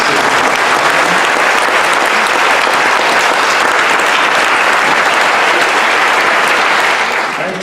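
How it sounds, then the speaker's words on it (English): Sustained, loud audience applause for students at a gun-policy debate event, dense and even throughout with many hands clapping at once, fading slightly at the very end. "I do ask that we all give a round of applause to the students"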